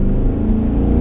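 Ice cream hearse engine with dual exhaust and Flowmaster mufflers revving at full throttle, a loud, close, sustained low rumble with no voices.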